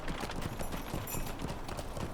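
Horse hooves clip-clop in a steady rhythmic gait in Lord of the Rings Online, a Rohirrim mount moving at a walk, clear and continuous with no talk over it.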